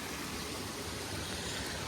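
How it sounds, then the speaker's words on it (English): A little waterfall on a stream at Bull Clough rushes steadily, a soft, even broadband wash of falling water heard alone and fairly quiet, without talk or other sounds. "I've just had lunch sitting here above this little waterfall."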